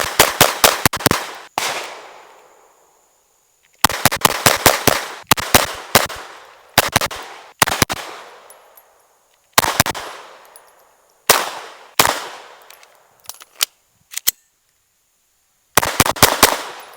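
Shots from a .22 handgun with a red dot sight at an outdoor range, fired in quick bursts of several sharp cracks with short pauses between, each report loud and close with a brief ringing tail.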